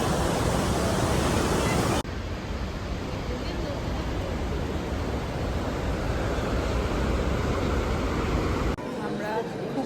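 Steady, loud rush of waves washing over a waterfront platform, with continuous broadband surf noise and a wind-buffeted roar that runs throughout.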